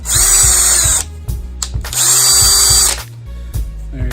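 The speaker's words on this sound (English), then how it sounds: "Same thing, attach it to your drill." A power drill whirs loudly in two long bursts with a spinning brush attachment whirring against a car wheel, separated by shorter clattering handling noises.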